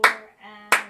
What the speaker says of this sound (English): So clapping the right hand first.